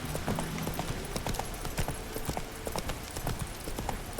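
A horse gallops in The Witcher 3: Wild Hunt, its quick, rhythmic hoofbeats pounding close and loud without a break.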